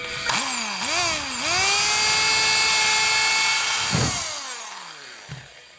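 A power drill driving a screw into a wood project whirs up in short bursts, then spins at a high steady whine for a few seconds before winding down and stopping.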